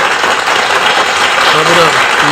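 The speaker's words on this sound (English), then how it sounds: "Let's give her applause." Applause and cheering spread across a dense, broadband wash that holds steady throughout, with a voice talking loudly over the clapping.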